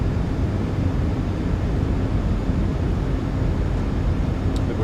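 A PMDG 737-700 in a flight simulator makes a steady, broadband engine and airflow roar. It holds constant and dense throughout, with no talk.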